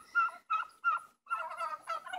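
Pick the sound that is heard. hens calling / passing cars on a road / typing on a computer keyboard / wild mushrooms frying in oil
hens calling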